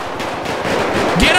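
Rapid gunfire in a police roleplay video game rattles loudly in a dense burst, with voices talking over it.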